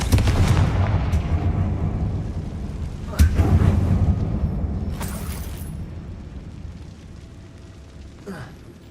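Confringo fire spell explosions in the Hogwarts Legacy video game: a heavy booming rumble at the start, a second sharp blast about three seconds in, then a long fading roar and a small late pop.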